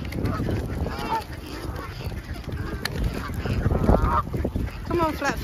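Swans honking at a bird rescue, loud repeated nasal calls close by, mixed with other waterfowl sounds and steady background noise throughout.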